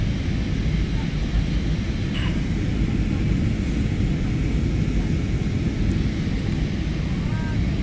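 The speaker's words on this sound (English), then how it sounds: "The presidential plane I'm riding on. We will be landing shortly." Cabin rumble of a presidential plane in flight shortly before landing, a loud, steady low engine drone throughout.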